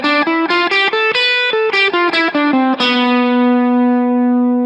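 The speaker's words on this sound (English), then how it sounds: "Next we have B, which is going to be B Locrian, and it sounds like this." Guitar runs up the B Locrian mode one note at a time in a quick, even rhythm of about ten plucked notes, then lets the last note ring out and fade, clean and close with no talking.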